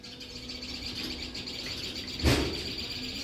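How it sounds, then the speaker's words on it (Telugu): Dense chirping and twittering from many birds, including parakeets, fills the background steadily, with a brief thump partway through. "పైన పక్షులు బాగున్నాయి చాలా రకాల పక్షులు ఉన్నాయి"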